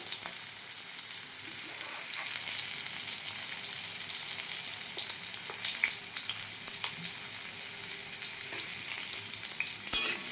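Mango pieces fry in oil with turmeric powder and get stirred, giving a steady close sizzle throughout with occasional soft scrapes of the spoon and a sharper clink near the end.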